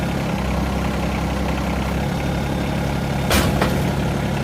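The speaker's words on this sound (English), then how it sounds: "I'm idling, full idle, and the tractor can lift it." A Yanmar SA324 compact tractor engine at full idle while lifting large logs, a loud, steady low diesel drum that runs unbroken throughout, with a brief clank of equipment near the end.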